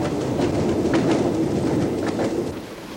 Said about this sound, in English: the only thing which comes up from underground are the trains